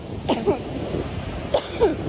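Two short coughs, each a quick pair of bursts, close to the listener with quiet background noise between them.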